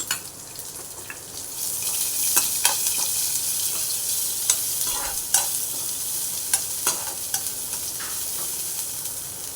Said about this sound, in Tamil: இதை தட்டி வச்சுருக்க கீரை தண்டு பூண்டு இதை போட்டு ஒரு வதக்கிக்கலாம்